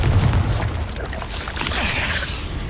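A booming Confringo explosive spell blast in Hogwarts Legacy on PS5, a loud low burst at the start that decays into a rumbling crackle and softer debris-like noise.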